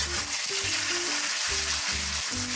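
Meat sizzles loudly in a hot stir-fry pan, a dense steady hiss with low clattering stir strokes every half second or so, close and continuous with no voices.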